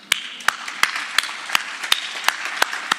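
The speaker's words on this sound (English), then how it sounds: "How about some applause for that?" Attendees at a neuroscience conference applaud. Loud, evenly spaced claps ring out about three times a second over a softer, steady bed of general clapping.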